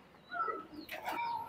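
Pakistani Teddy pigeons coo softly in a short, faint burst of low murmuring calls with a brief flutter, no talking.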